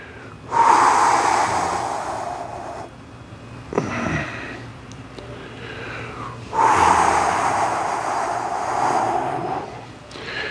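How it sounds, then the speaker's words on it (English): Two long, deep exhalations through the nose, heard close up during a stretching movement session, separated by a short pause with a faint sniff. "You want to be exhaling as you stretch."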